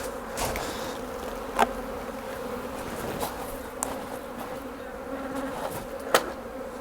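Honeybees buzz steadily around a hive, a dense hum with a few sharp clicks and knocks, close by and without speech.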